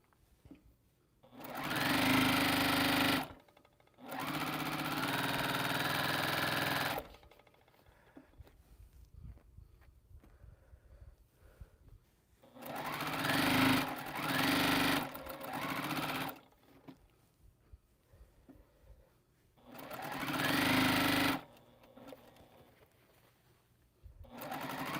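A sewing machine stitches quilt rows together in several steady, loud whirring runs of a few seconds each, separated by quiet pauses filled with faint handling of fabric.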